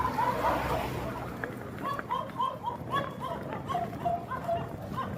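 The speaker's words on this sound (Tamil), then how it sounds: "நாய் குலைக்குதா" A dog barks repeatedly in a short run of sharp yelps outdoors on a Goa street trip, set back in the mix under steady crowd noise and people talking nearby.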